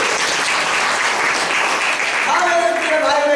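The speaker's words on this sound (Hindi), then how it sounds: "जोरदार ताली बजाएं इसके लिए।" Dense, loud applause from a church congregation at a Sunday Hindi-language sermon, steady throughout, with voices rising in the crowd near the end.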